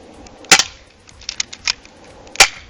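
An airsoft Beretta 9mm pistol fires at a can outdoors, giving two sharp, loud snaps about two seconds apart with a few fainter clicks and taps between them.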